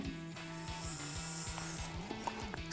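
A Mechanic iDrive electric screwdriver runs at maximum speed with a steady whirring motor hum, joined by faint ticks and rattles near the end.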